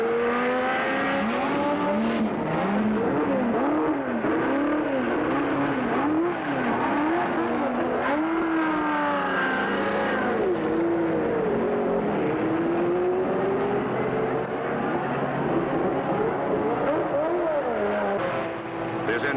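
Powerful race car engines roar continuously at a race, rising and falling in pitch as cars accelerate and pass, loud and steady with no talk.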